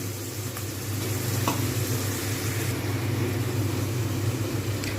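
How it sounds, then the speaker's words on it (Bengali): Ginger and garlic sautéing in oil for a chicken and potato curry, a steady close sizzle with a low rumbling undertone and faint stirring, no voices. "আদা পাঁচ চামচের মতো রসুন দিয়ে ভালো করে আমি কষতে থাকবো"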